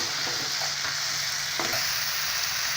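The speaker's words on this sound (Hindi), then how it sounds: "अब हम इसे हाई फ्लेम पर 5 मिनट तक भूनेंगे।" Chopped tomatoes and ground coconut fry on high flame in a pan for a palak paneer gravy, with a constant close hiss and sizzle and a few scraping stirs, no voices.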